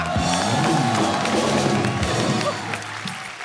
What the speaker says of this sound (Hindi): एक बार शंकर एहसान लो के लिए जोरदार तालियां